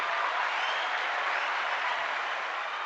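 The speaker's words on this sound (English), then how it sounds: "Round of applause." Steady, dense applause from a studio crowd at the close of a live-streamed talk show, loud and continuous without letup throughout.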